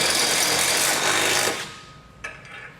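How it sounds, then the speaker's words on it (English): A power drill with a 1/2-inch bit grinds steadily into metal while a Roadmaster crossbar-style base plate is fitted to a 2020 vehicle, lasting about a second and a half, then stops abruptly, followed by a couple of faint clanks. "We're going to use a 1/2-inch drill bit to drill them out."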